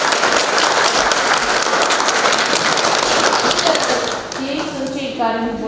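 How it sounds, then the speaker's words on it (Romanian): An audience at a student award ceremony applauds, a dense and steady wash of clapping from many hands that eases off near the end as a voice begins speaking. "vă rog să-i aplaudați"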